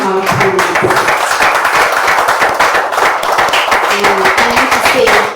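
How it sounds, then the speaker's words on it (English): An audience gives a big round of applause for panelists at an entrepreneurship event, dense sustained clapping filling the room from start to finish. "So please join me and put a very massive round of applause for our panelists."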